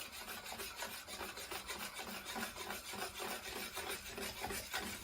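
A spoon stirs a frothing baking soda mixture for Greek honey walnut cookies (melomakarona), giving a steady, close, scratchy rubbing that runs the whole time without pause.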